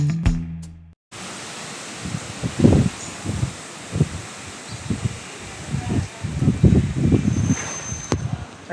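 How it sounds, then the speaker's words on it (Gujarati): Strong wind buffets outdoors near a village road in Gujarat, a broad steady roar with irregular gusting surges and rumbling bursts that swell and fade across the whole stretch, loud and close to the microphone. "એટલો જોરદાર પવન છે મિત્રો"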